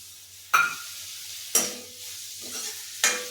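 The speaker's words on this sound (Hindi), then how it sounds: "तो चलो मैं कर लेती हूँ फ्राई।" Bitter gourd (karela) pieces and tomatoes frying in a pan, three sharp stirring scrapes and bursts of sizzle over a steady low frying hiss, with no talk.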